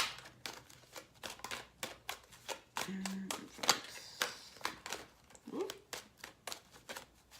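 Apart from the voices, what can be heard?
shuffling playing cards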